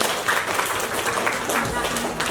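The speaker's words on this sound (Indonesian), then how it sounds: "Kita beri tepuk tangan dulu." Audience applause at a school teachers' gathering, a steady patter of many hands clapping at close range with voices mixed in underneath.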